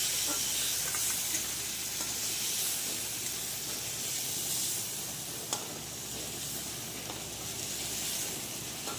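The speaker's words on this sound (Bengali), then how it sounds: "চিংড়ি মাছগুলো আমার হালকা ভাজা হয়ে গেছে।" Shrimp frying lightly in oil in a wok, a steady close sizzle and hiss with a few faint clinks and stirring sounds, no voices.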